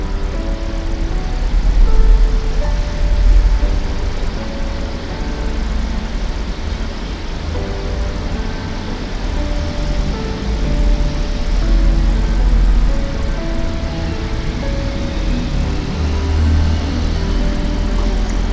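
A 6.7L Power Stroke diesel engine runs steadily while blowing out soot, a loud continuous low rumble and roar with slight surges in intensity and no talking.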